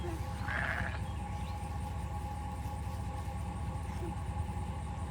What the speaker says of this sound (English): I see the sheep.